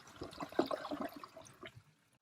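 A Gerber Viper toilet flushing, with a short gurgling rush of water that builds quickly, churns for about a second, then drains away to silence.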